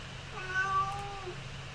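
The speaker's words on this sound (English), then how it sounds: "Oh, my cat wants to get out of here." A house cat meows indoors, one drawn-out falling call, close and clear over quiet room tone.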